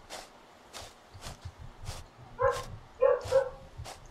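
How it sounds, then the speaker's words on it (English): Dogs barking outside at night, a run of sharp repeated barks spaced roughly every half second, moderately distant and fairly quiet, with a couple of louder, closer yips near the end over low background rumble. "Ang ingay pa ng mga aso sa labas."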